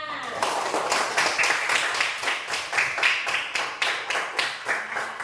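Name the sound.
children clapping in class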